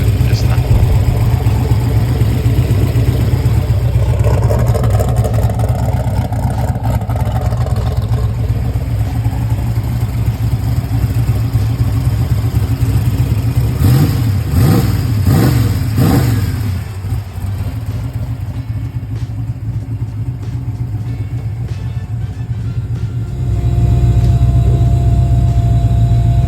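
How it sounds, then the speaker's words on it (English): A turbocharged AMC 401 V8 in an AMC Hornet drag car rumbles loudly nearby, with deep idle and a few sharp revs that climb and fall. The engine drops off briefly before it roars back in. "got it functional enough to get the car running"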